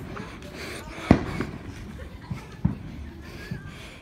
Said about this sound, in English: I'm gonna get closer to the firework.